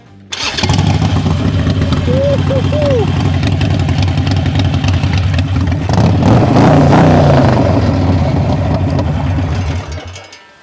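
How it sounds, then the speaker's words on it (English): A Harley-Davidson Sportster motorcycle idles close by, its exhaust making a loud, lumpy, continuous rumble with a brief blip of revs midway before it settles and cuts off near the end. "Listen to this exhaust and write in the comments what you guys think."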